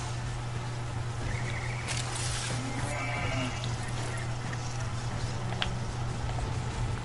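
A goat-like alien creature in the Warframe video game lets out a faint, drawn-out bleating whinny, heard a couple of times over a constant low background hum.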